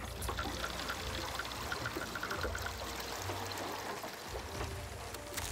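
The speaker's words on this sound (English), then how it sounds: "The grain is dehusked in a water-powered stone mill." Water-powered stone mill dehusking rice in a Hakka village: steady rushing, pouring water with a low rumbling churn throughout, loud and continuous.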